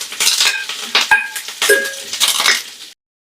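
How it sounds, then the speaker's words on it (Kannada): Chana dal, urad dal and curry leaves tempering for raw banana palya, with close, bright clinks and scrapes of a spoon stirring in the pan over a faint sizzle, then stopping abruptly. "ಇಷ್ಟು ಒಗ್ಗರಣೆ ಪದಾರ್ಥನ ಸೇರಿಸ್ಕೊಂಡು ಒಂದು ಅರ್ಧ ನಿಮಿಷ ಫ್ರೈ ಮಾಡ್ಕೊಳ್ಳೋಣ"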